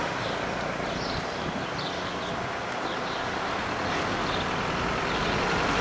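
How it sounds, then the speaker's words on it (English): Street traffic on a busy shopping street in Plovdiv, Bulgaria, a steady dense rumble of passing vehicles with broad hiss and no standout events, moderately loud throughout. "there's usually so much traffic on it that it can only be a local shopping street"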